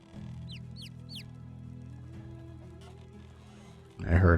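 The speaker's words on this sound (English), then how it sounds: "I heard a bird." Three quick, rising chirps from a bird in the video game Medieval Dynasty over a steady low hum, followed by a louder burst of noise at the end.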